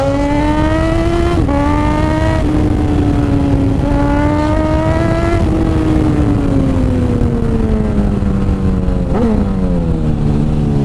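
A Suzuki GSX-S1000 big bike's engine revs loudly and close, its pitch rising and falling through several throttle sweeps and gear changes with a steady mechanical drone, no voices.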